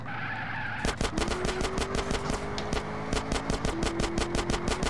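Rapid bursts of automatic gunfire in a GTA San Andreas multiplayer game, sharp repeated cracks in quick strings over a running engine drone.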